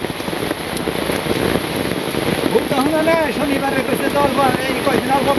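Heavy rain falls steadily in a Bangladeshi village, a loud continuous hiss of water with a voice talking over it toward the end.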